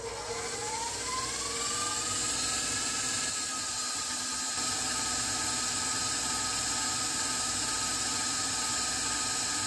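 An electric mixer whips cream toward soft peaks, a steady close whirring hum whose pitch rises slightly as the motor speeds up, continuing without a break.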